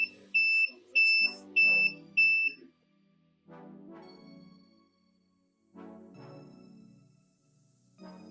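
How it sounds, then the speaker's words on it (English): An ESP32 smart alarm clock with a TFT display gives four short, evenly spaced electronic beeps, then a voice speaks over a quiet background. "you have just built a smart Wi-Fi synchronized alarm clock powered by ESP32 and a colorful TFT display"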